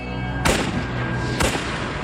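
Two sharp gunshots crack about a second apart over a low continuous background, each loud and close with a short echoing tail, in a documentary about the SA officers' executions.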